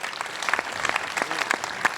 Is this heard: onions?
no